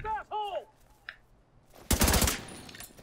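Gunfire from the video game Tom Clancy's The Division 2 erupts in a loud, dense burst of shots partway through, after an earlier stretch of voice-like tones and quiet.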